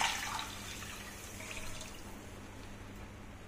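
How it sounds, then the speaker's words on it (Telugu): Water is poured into a cooking pot to simmer jowar (sorghum) rava for a healthy breakfast, making a faint, steady splashing stream that lasts throughout with no talking. "ఇప్పుడు వాటర్ పోసుకోవాలి."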